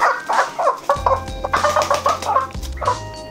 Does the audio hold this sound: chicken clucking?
yes